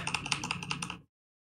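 Quick run of close computer keyboard keystrokes, about eight crisp clicks in a steady rhythm that stop abruptly into silence.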